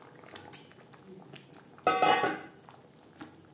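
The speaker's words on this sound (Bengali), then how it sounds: "আর দিয়ে দেব ভেজে রাখা মাছ" Fried fish pieces go into a pot of simmering curry gravy with potato and green banana, giving a sudden burst of clatter and a brief spluttering sizzle after soft clinks of utensils.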